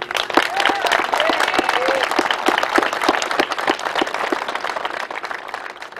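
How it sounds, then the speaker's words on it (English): Crowd at a Veterans Day ceremony and parade in Picayune giving veterans a warm round of applause, dense sustained clapping from many hands with a few audible cheers, gradually tapering toward the end. "Can we give them a warm uh, round of applause?"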